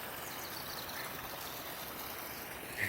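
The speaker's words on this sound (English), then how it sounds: "There's the creek. Water's up a little bit." Creek water, running a little high after rain, flows steadily with a soft, continuous rushing wash close by, with no voices over it.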